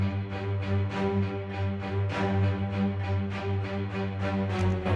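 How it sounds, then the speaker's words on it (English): A low, sustained electric guitar tone blended with lush orchestral strings, swelling in a slow, steady rhythm without any voices. "layered it with a guitar, electric guitar, really low."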